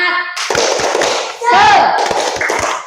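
A primary school class does the rhythmic tepuk semangat clap, sharp hand claps landing in a quick pattern amid loud children's chanting voices close by.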